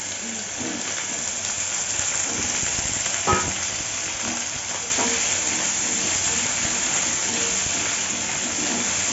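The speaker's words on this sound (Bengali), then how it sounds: "এবার আলুটা একটু ভালো করে ভেজে নেবো" Potatoes frying in a pan for a green papaya and raw chickpea dish, a steady close sizzle with occasional stirring clinks and scrapes, no talking.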